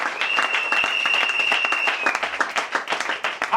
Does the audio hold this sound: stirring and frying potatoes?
no